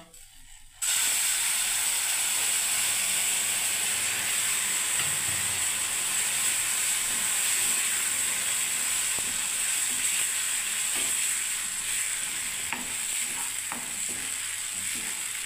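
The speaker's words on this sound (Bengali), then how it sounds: "এবার আমি একটু করে জল দিতে থাকবো বন্ধুরা" Water hits a pan of hot sooji halwa and bursts into a loud, sudden hiss that settles into a sustained, close steaming sizzle, with stirring scrapes underneath and no voices.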